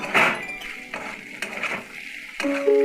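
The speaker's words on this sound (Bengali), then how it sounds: "এবার ভালো করে একটু নাড়াচাড়া করে নেব।" Metal spoon scraping and clinking against a pan while stirring a spiced masala with cumin powder for a loitta fish dish, several distinct knocks and scrapes with pauses between, close and clear, no talk.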